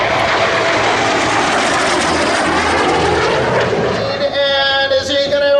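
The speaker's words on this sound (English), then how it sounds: "T-33 shooting star." T-33 Shooting Star jet flying past at the Abbotsford Airshow 2024, a loud, broad engine roar that shifts into a whining tonal pitch as it passes, with a voice talking over it.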